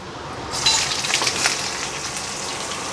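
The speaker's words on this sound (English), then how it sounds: "you can see the oil splattering around" Onions frying in hot oil for a curry, a steady crackling sizzle with a burst of sharper spitting pops near the start that settles into a softer continuous hiss, no talking.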